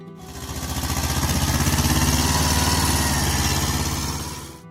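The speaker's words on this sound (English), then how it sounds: "This compact tractor carried a humble 2-cylinder diesel engine, usually around 12 to 14 horsepower." A Kubota B6000 compact tractor from the mid-1970s with a small 2-cylinder diesel engine runs with a steady pulsing chug, swelling in from quiet, holding loud and close, then fading away.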